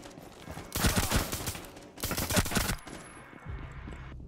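Automatic gunfire in the video game Rainbow Six Siege rattles out in two loud, sustained bursts a second apart, followed by quieter game ambience.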